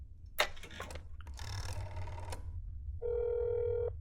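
In the video game That's Not My Neighbor, a telephone rings with a steady electronic tone near the end, after a few clicks and bursts of game noise.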